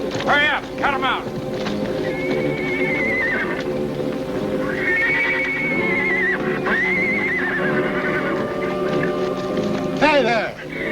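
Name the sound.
horses neighing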